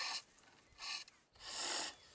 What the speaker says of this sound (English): I now use a skew chisel to mark out the details.